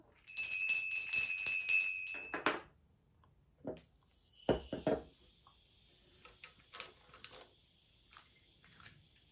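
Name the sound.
bell rung to start a writing session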